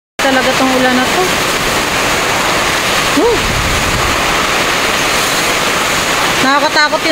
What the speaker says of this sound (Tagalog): Talaga tong ulan na to.